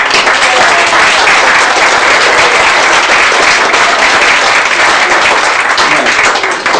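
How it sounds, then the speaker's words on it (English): A convention closing ceremony crowd claps and cheers loudly, a thick, continuous roar of hands and voices filling the room from start to finish. "Give yourselves a cheer,"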